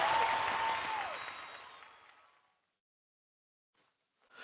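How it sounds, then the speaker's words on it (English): Audience applause fades out over a couple of seconds into silence, with faint stirrings near the end. "Give yourselves a massive round of applause and a big pat on the back."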